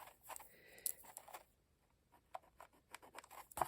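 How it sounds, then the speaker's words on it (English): Scissors snip through a cardboard paper towel roll, cutting it in half for a craft project, with a few quiet crisp cuts and faint scraping close by. "And we are going to cut it in half, so I'm going to do that right now."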